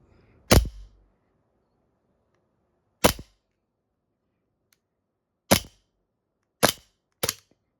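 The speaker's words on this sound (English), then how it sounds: "Okay, so here's the trigger pull." A Hi-Capa airsoft pistol's trigger is pulled dry five times, each a sharp, close, isolated snap with short silent gaps between, the last two coming quicker.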